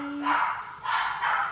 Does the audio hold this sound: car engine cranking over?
no